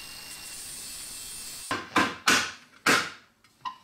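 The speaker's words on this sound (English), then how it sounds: "Now I'm removing the pins, obviously trying to do as little damage to" Pins are worked out of an old wooden butter churn under restoration, with four or five sharp, close knocks and scraping strikes following a quiet stretch.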